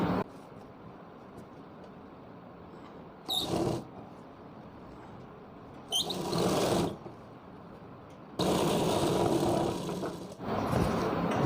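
Sewing machine stitching the panels of a Rajputi lehenga (ghaghra) together: three runs of steady mechanical whirring, the last lasting about three seconds, separated by quiet fabric handling, close and moderately loud.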